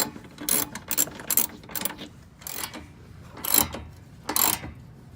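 A ratchet wrench cranks down the mounting nuts of nerf bars on a 2019 Ram Rebel, bursts of quick clicking in several separate runs of a second or less, close and moderately loud.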